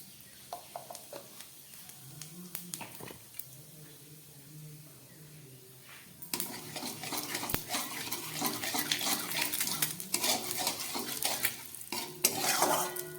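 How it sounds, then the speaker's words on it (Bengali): Cumin seeds tempered in hot oil left from frying fish, stirred with a utensil against the pan; quiet clinks and scrapes at first, then a loud, steady sizzle for the second half. "মাছ ভাজার তেলের মধ্যে আমি একটু জিরে ফোড়ন দিয়ে দিচ্ছি।"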